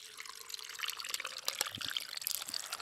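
Freshly cracked canned drink pouring into a glass, a continuous fizzy splashing and bubbling stream with small drips, fairly close, no talk over it.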